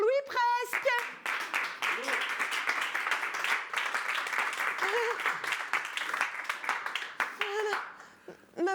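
Audience applause at a live event as a husband is called up, brief voices at the start, then several seconds of steady moderate clapping, with someone speaking again over the tail.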